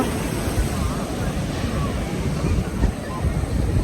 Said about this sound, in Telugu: చూడండి ఇప్పుడు అలలు ఎంత ఇదిగా వస్తున్నాయో చూపిస్తాను